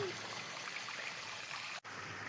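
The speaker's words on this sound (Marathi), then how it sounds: "खाली इथं मग धबधबा राहतो वरतून खाली पाणी येतं किल्ल्यावरून" Water from a monsoon waterfall spilling down from Pisul fort near Nashik, a steady broadband rush that stays constant throughout, with one brief dropout near the end.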